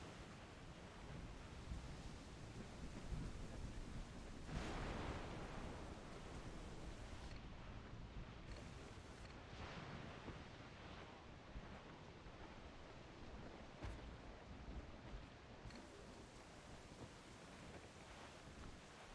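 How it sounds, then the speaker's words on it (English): A stormy sea in the Assassin's Creed IV Black Flag video game: a dense, steady roar of surging waves and gusting wind, with a stronger rushing swell partway through and no voices. "Storm there, Captain! Looks bad!"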